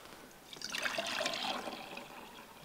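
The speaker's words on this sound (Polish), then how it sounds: "Mamy tutaj układ wirownicy z naczyniem, do której nalejemy wody." Water is poured into a vessel fitted to a vortex-generator setup, a soft trickling splash that swells and then fades, fairly quiet and heard alone.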